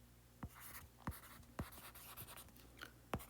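Chalk or pen writing on a board during a physics lecture on electrostatics: a series of sharp scratchy strokes and taps at irregular intervals, faint and close, with no talk over them.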